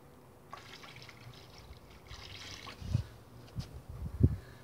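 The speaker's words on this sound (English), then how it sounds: "I'm basically pouring this into the outlet, so where the outlet water goes back into the pond, so that'll swish it around" Potassium permanganate solution is poured into the outlet of a koi pond, giving soft trickling and splashing with a few louder gurgling pulses toward the end, quiet overall.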